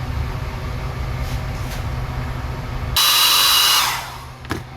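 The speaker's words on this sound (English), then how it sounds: "So I'm gonna give it a little blow dryer time." Hair dryer blowing hot air over a freshly painted metal spoon lure: a steady close whir that suddenly turns to a loud bright hiss for about a second, then fades back down, with no talk.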